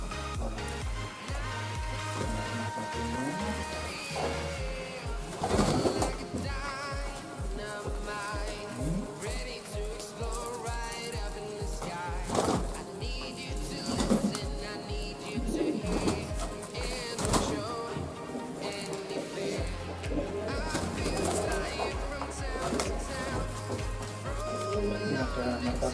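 Homing pigeons kept outside coo softly in low, repeated murmurs, faint under a busy background of other noise.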